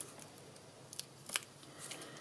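Backing paper peeled off small adhesive pieces for a heart-themed paper craft card, heard as faint, brief crackling rips close by in a quiet room, with one slightly sharper tear near the middle.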